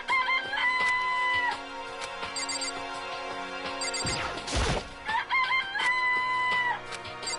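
Chickens in the Danganronpa video game cluck and crow in repeated close, loud calls, broken midway by a brief crashing noise before the crowing returns.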